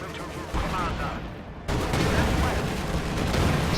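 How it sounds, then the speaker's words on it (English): A strafing run and fragmentation bombs in a World War II tank battle video game, with dense rumbling gunfire and booming explosions rolling continuously, growing heavier and louder partway through. "Fragmentation bombs and a strafing run."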